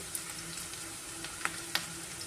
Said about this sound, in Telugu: చూడండి టమాటా కూడా వేగిపోయింది